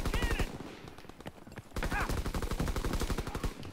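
Gunfire in the World War II shooter Call of Duty: WW2 multiplayer: a dense run of sharp shots, a brief lull in the middle, then a loud, steady rattle of fire to the end.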